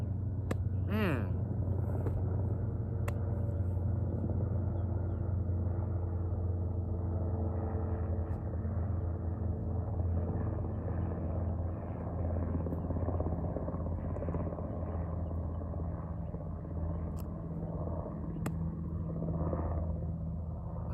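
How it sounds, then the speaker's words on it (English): Helicopter passing overhead outdoors, a steady loud rotor rumble that fills the whole stretch and holds nearly constant, with a few faint clicks and brief sounds on top. "Let's just wait for this helicopter. It might be the same one that flew over earlier."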